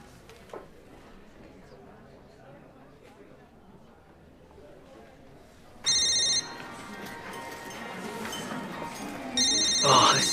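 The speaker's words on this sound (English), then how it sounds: "Are you aware that the phone is ringing?" A telephone rings in a school office setting, two loud electronic trilling bursts cutting in after a quiet stretch of faint background murmur and movement.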